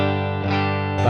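Electric guitar played direct into a recording interface with an impulse-response cabinet emulation, a short sustained distorted chord that changes once midway, loud and close.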